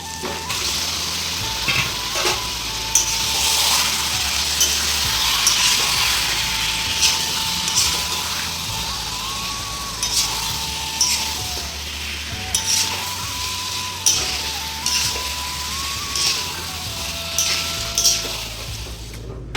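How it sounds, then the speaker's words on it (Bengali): Chicken fries in a pan with cooked-down spice paste, giving a continuous loud sizzle. A utensil scrapes and taps the pan now and then, with no one talking. "মশলাটা কষা হয়ে গেছে, এবার চিকেনটা দিয়ে দেবো"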